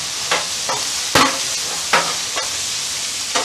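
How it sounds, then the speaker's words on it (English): Cherry tomatoes tossed onto a hot flat top grill, giving a steady bright sizzle with a few sharper hissing bursts as they land and roll, close and alone without any talk. "We'll throw our cherry tomatoes on just for a minute."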